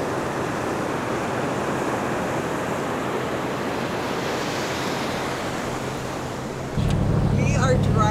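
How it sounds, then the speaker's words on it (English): A vehicle drives along a Padre Island, Texas beach right at the water's edge, its steady rumble and wind noise blending with continuous surf. The engine grows louder near the end, and brief faint voices come in over it. "We are driving at the water's edge, you guys."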